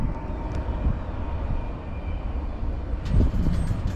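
A heavy freight train rumbles steadily, low and continuous, with a brief hiss and clank near the end as it starts to move off from a signal.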